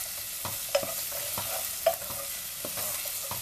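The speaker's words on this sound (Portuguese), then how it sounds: "E aqui nós vamos deixar dar uma refogada nesses dois ingredientes." Bell peppers and garlic sauté in a pan, with a steady soft sizzle and repeated scraping stirs clicking against the pan.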